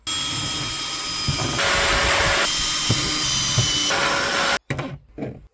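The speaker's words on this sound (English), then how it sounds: "I'll drill holes through the whole thing and screw them together" A power drill whines loudly and steadily, its pitch shifting as it bores through car parts on a BMW G31, then stops and revs briefly in short bursts.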